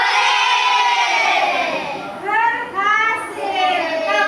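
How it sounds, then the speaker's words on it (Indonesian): Children in a classroom shout hooray together, a loud burst of young voices cheering in unison that rises and repeats over several seconds. "Jika iya, katakan hore."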